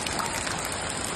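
Heavy rain pours down outdoors in a dense, steady hiss, close and loud without a break, with no voices.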